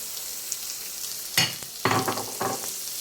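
Hotdog slices dropped into a hot pan, a constant background sizzle that flares into louder crackling bursts as the pieces land and get stirred, with no talking.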